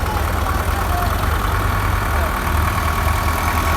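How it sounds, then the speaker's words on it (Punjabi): A small tractor engine idles steadily nearby during a wheat harvest in Punjab, a continuous low rumble with no change in pace throughout. "ਛੋਟਾ ਇਹਨੂੰ ਛੋਟਾ ਟਰੈਕਟਰ ਦਿੱਤਾ ਇਹਨੂੰ ਛੋਟਾ ਚਾਚਾ ਅਮਨਪ੍ਰੀਤ ਸਿੰਘ ਗਿੱਲ"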